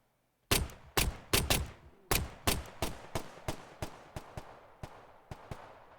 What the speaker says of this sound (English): And then we have the weapon category.